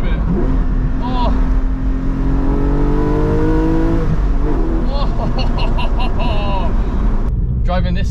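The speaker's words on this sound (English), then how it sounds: "I'm gonna downshift a second here just for the sake of it" A 2020 Ford Fiesta ST-Line engine revs up and falls during a manual downshift, heard from inside the car with a voice talking over the rising and dropping engine note.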